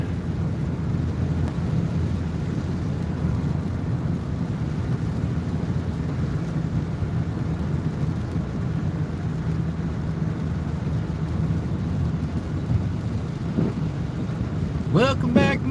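Steady rain hisses over a continuous low road rumble from a vehicle driving on a highway, broadband and unbroken, with a brief squeaky sound near the end.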